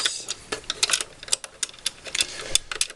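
Rapid, irregular clicks and light metallic ticks come from a screwdriver unscrewing a VTech shapes toy tractor, close up with no talk.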